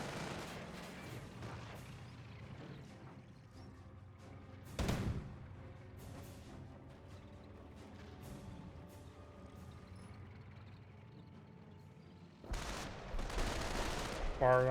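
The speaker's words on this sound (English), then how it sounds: "I hear M2s firing somewhere." Distant M2 machine guns firing in the Company of Heroes battle game, scattered bursts and booms sitting low under ambient battlefield noise, with a louder blast near the middle and heavier fire at the end.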